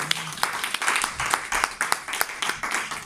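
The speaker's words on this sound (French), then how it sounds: "Lève tes mains, acclame très fort le Seigneur" A church congregation applauds, with steady rapid clapping forming an even wash of claps that rises and falls for the whole stretch, close and fairly loud.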